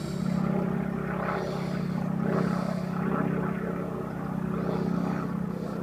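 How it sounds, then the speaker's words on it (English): A high-flying airplane passing over a canal with boat traffic, a steady broad droning rumble that swells and fades slightly, heard from far off with no voices. "Plane flying over, but he's way high."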